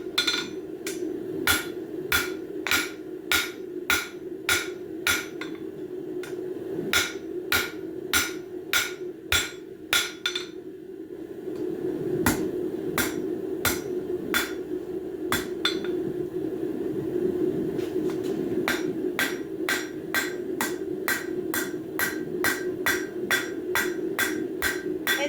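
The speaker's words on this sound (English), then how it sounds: "the best way to get rid of them is to like hammer them on the anvil" Steady, ringing hammer blows on hot metal on an anvil, rounding a small nub on a bird feeder hanger, strike in a regular rhythm, pausing briefly midway before resuming, over a constant low background hum.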